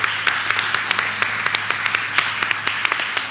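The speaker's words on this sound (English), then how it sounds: "that deserves a round of applause" Scattered clapping at a school board of education meeting, a modest round of applause with distinct individual claps standing out over a low steady hum.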